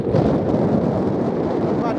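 Wind buffets the microphone near the summit of Ladyside Pike, a Lake District fell, in a loud continuous roaring rush with no distinct pauses.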